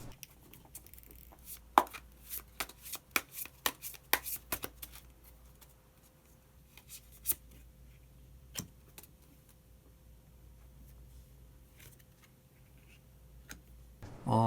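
Tarot cards drawn and handled from a deck: a burst of sharp, close card flicks and taps, then a quieter stretch with only occasional single snaps, with no talking.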